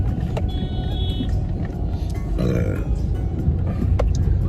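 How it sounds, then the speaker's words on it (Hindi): A car pulls into a roadside parking spot beside an office, its engine rumbling low and steady up close, with a brief rougher surge partway through. "इधर मैं गाड़ी लगाऊंगा, इधर ही साइड में पार्किंग में।"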